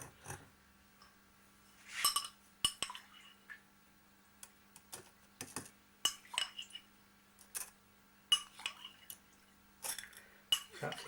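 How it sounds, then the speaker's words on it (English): Rice being tipped through a metal sieve into a pan, giving scattered light clinks and taps with brief watery drips, a few sharper metallic knocks standing out over a quiet kitchen with a steady low hum. "So you're working through a sieve. Sieve it into a pan."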